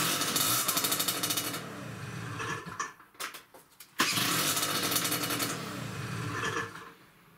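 A Speedfight 2 50cc moped scooter engine runs close by with a steady buzzing idle, breaks into a few sputtering pops midway, then returns to a continuous rattling drone.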